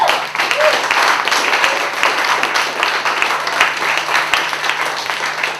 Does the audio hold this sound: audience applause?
yes